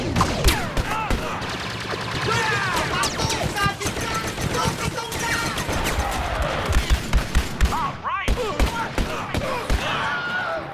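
A stormtrooper in Star Wars Jedi: Fallen Order is shot over and over, with rapid bursts of sharp blaster fire and impact cracks repeating loudly and almost continuously, ending in a few spaced single shots.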